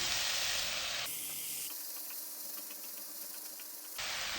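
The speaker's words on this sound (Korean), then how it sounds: "파에서 기름이 어느 정도 나오면 고추도 같이 넣어서 볶아줄게요. 애호박을 넣고 살짝 숨을 죽이면" Zucchini, chili pepper and green onion stir-frying in oil give a steady, close sizzling hiss, louder at the start and end, with no talking.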